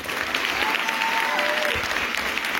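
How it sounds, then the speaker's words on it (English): Steady applause from a crowd, a dense continuous patter of clapping that holds at an even level throughout. "Once again, our applause for them."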